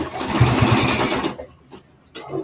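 A sewing machine stitches a 1/2 inch seam on a shirt cuff in a close, steady buzzing run that stops about halfway, leaving quieter rustling and faint handling sounds.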